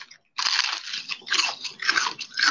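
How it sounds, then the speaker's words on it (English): Crispy, hard-fried food being bitten and chewed close up, a steady run of loud, dry crunches filling the clip after a brief silent start, with no talking. "Y'all hear that crunch?"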